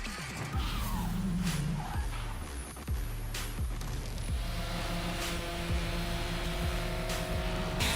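Drift car on Nitto tires sliding at a Formula Drift pro round in Orlando, a loud sustained tire roar and squeal with engine drone, heard from a distance across the track, continuous for several seconds.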